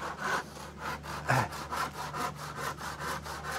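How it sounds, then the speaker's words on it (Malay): Hand saw cutting through wooden planks for a house build, a steady back-and-forth rhythm of about a dozen rasping strokes, close and fairly loud with no talking. "Potong. 12 keping papan."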